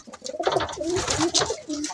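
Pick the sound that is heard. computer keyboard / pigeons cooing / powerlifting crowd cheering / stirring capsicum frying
pigeons cooing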